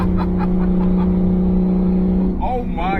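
A 715 whp single turbo N54 BMW 335i engine holds a steady, loud droning tone, then a voice speaks over it near the end of the three seconds.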